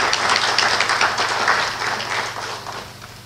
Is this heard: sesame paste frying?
no